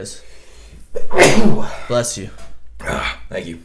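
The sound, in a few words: sneeze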